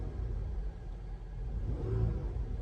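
A Chevrolet Malibu bought cheaply at a salvage auction, engine accelerating with a steady low rumble that swells slightly toward the end, close by with no talk.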